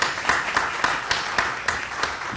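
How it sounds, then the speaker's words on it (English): An audience at a Senate roundtable applauds steadily, filling the room with dense clapping that has a faint regular pulse. The applause is continuous and fairly near, and no one speaks over it. "you should give yourselves a round of applause for that"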